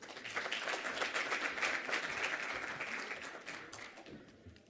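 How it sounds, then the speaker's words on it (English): Applause from a summit audience at the closing ceremony of a hydrogen energy conference, a full round of clapping that swells early, holds, then tapers off toward the end. "Massive round of applause."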